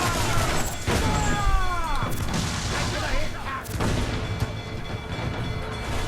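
Ship cannons firing in Assassin's Creed IV, heavy booming shots in quick succession over a noisy battle soundscape, with a voice talking in the background.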